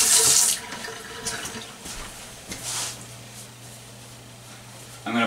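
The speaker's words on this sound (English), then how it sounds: "Let's rinse our hands." Hands rinsed under a running kitchen tap, water splashing close by in bursts that start loud, ease off and surge again at the end.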